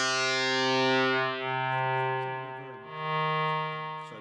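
Korg Minilogue xd synthesizer playing its turbo digital oscillator: sustained, buzzy, harmonically rich held notes shifting pitch in three steps, with a bright sweeping filter tone and no voices.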